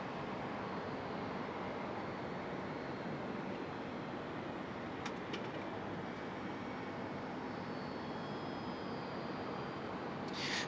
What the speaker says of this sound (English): That's that E175 that pushed back a little while ago. Finally getting a move on.